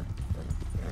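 Horse hooves clip-clopping in the Red Dead Redemption 2 video game, a quick steady run of close hollow thuds at an even riding rhythm, loud and dry with no talk over them.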